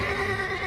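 A heavy 2,000-pound draft horse, one of a team hitched to a sledge for moving a meat shed, gives a loud, close whinny that lasts the whole short moment.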